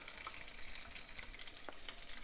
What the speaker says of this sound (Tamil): ஸோ இப்போ கடுகு வெடிக்கிற சத்தம் கேட்கும்னு நினைக்கிறேன் உங்களுக்கு.